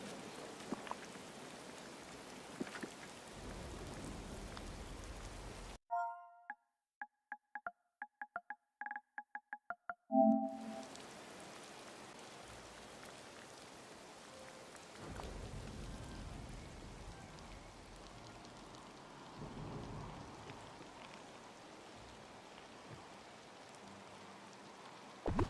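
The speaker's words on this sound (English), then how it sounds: "And it's still raining." Steady rain in the life-sim game Disney Dreamlight Valley, a continuous soft hiss of falling drops that cuts out briefly partway through and then returns unchanged.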